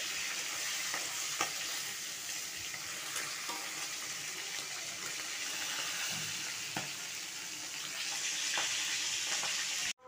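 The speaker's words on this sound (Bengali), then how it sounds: "দেখো মাছের মুড়োগুলো আগে ভেজে নিচ্ছি" Fish heads fry in a pan with a loud, dense, continuous sizzle, with occasional crackles and pops over the hiss. The sizzle cuts off abruptly at the end.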